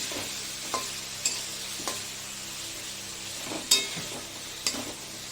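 Prawns with potatoes and spices are stirred and fried in a pan, a steady soft sizzle under scattered sharp scrapes and clinks of a spatula at irregular intervals.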